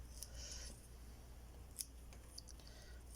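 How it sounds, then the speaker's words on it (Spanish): Garden shears or scissors snip leaves off rose cuttings, giving a few faint, sharp clicks and cuts over quiet background noise. "evidentemente cortamos las hojas"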